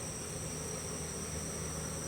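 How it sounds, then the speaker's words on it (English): Bees buzzing around the entrance of a hive set up to catch a swarm, a faint steady insect drone with high whine, continuous and uninterrupted, no voices. "it's a good sign that bees are going in the entrance"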